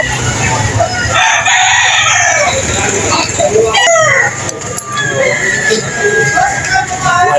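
Roosters crow loudly and hens cluck close by at a busy outdoor chicken market in Lipa, Batangas, with several birds calling over one another and people talking throughout.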